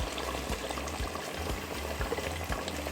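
About two litres of water pour steadily into a pot of sautéed meat with chickpeas, turnips and artichoke for Algerian couscous broth, a continuous gushing splash with faint sizzling beneath.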